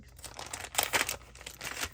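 Small, very sharp scissors cut open plastic packaging, giving quiet crinkling and snipping bursts, with a few louder crunchy rustles near the middle and end, all close up and without talk.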